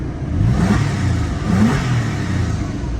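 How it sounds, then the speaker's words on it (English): A Porsche engine revs up twice in quick succession, each rise swelling loud and close before settling back to a steady, rumbling idle. "Revs just fine. Sounds healthy."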